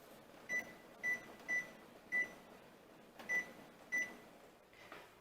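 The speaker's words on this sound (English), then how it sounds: "All right, our timer is going off." A kitchen timer beeps six times, short high-pitched electronic tones at an uneven pace over a quiet background hum, during cherry jam making. No one talks.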